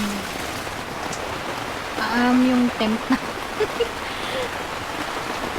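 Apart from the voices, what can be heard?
heavy rain falling at night on a campsite tent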